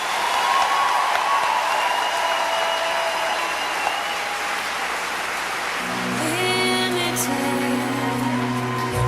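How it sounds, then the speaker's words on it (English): Dense, sustained applause from a school convocation crowd fills the space, clapping steadily; near the end a tonal musical sound rises over it. "one more round of applause"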